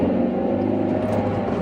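A car engine labours uphill under load, a steady low droning rumble held at constant strain throughout, with no voices.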